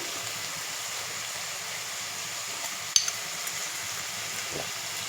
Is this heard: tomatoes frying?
yes